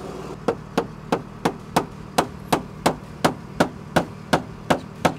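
Steady, evenly spaced hammer blows, about a dozen sharp metallic strikes in a regular rhythm, close and alone.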